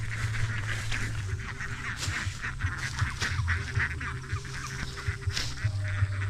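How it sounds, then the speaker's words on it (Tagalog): Ducks are let out near a pond at midday, near ipil-ipil trees, calling loudly with repeated honking quacks that overlap in a steady flock chorus. "idadrop na natin ang ating mga itik"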